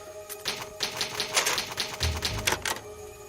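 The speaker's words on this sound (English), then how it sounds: "there's a typewriter which we could use to save our progress" Rapid clattering typewriter keystrokes used as a save-progress sound in a video game, a dense burst of clicks with a carriage-like thump near the end, heard alone.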